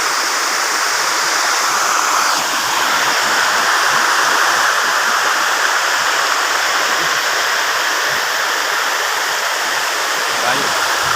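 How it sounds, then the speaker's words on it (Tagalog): Malingin Falls in Bohol roars steadily, a dense broadband rush of falling water that stays loud and constant throughout with no letup. "Malingin Falls sa Bohol."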